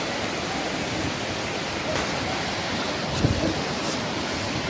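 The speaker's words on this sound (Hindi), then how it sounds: "हाँ तो झरना आ गया ना ऊपर से।" Steady, broad rushing roar of a waterfall on the mountain trek from Gaurikund to Kedarnath, heard continuously with a faint voice briefly nearby.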